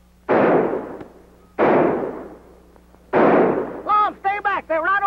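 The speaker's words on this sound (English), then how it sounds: "Tell him to keep shooting, Abner." Gunshots ring out in an old comedy film, three loud booming blasts a second or so apart, each trailing off, followed by a short burst of voices shouting.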